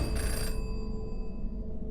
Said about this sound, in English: Why is there a phone in the crypt?